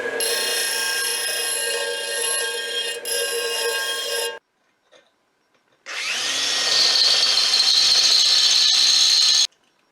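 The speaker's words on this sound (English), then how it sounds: "So we'll fire up the CNC to make a fancy blocking plate." A CNC machine cuts a blocking plate for a 1996 Polaris XCR 440 SP snowmobile, giving two loud, steady whining bursts split by a short quiet pause.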